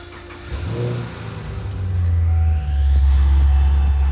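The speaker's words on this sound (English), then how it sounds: "turn the car on for about 30 seconds to let the oil circulate throughout the engine" Car engine started and idling after an oil change, letting fresh Pennzoil oil circulate: a close, loud crank and catch followed by a steady rising idle hum.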